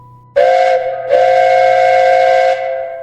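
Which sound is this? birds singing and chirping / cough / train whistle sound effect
train whistle sound effect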